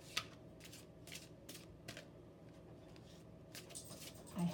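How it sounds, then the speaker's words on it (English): Quiet, soft bursts of riffling from an oversized deck of cards come in a loose rhythm, each a short papery flutter, with faint background hum between them. "This deck is too big for me to shuffle normally"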